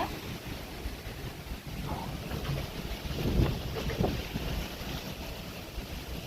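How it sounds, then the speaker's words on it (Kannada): Strong wind roars steadily into the microphone beside a water pit at a house site, rising into louder gusts midway before easing back. "ಟೈಮ್ನಾಗ ಸಿಕ್ಕಾಪಟ್ಟೆ ಗಾಳಿ ಬಿಟ್ಟೈತೆ ನೋಡ್ರಿ ಫ್ರೆಂಡ್ಸ"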